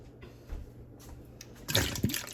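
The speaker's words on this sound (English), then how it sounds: "I'm just going to dump it in the sink." Liquid from canned sweet potatoes is poured into a kitchen sink, a short splashing gush that builds near the end after a few quiet handling knocks.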